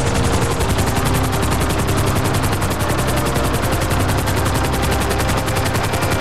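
A helicopter in GTA V roars with a loud, dense, continuous rotor thrum and rapid chopping pulses, filling the whole stretch up close with no talk.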